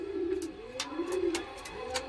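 A restless pigeon being held up by hand gives soft, low cooing notes in short repeated bursts, close by, with faint rustling and no talk over it.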